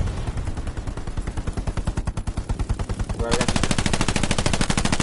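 Rapid machine-gun fire in the World War II shooter Hell Let Loose, a steady stream of close bursts that grows louder and denser partway through, with a voice speaking briefly over it.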